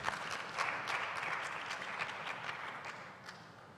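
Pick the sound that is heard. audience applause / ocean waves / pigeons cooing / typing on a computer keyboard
audience applause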